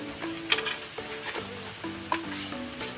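Ash gourd curry stirring and frying in a pan with yogurt and salt, a steady sizzle broken by sharp spoon scrapes and clinks against the pan, close and moderately loud, with no talking.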